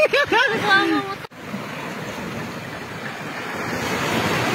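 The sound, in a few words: sea waves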